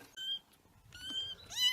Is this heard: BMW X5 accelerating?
no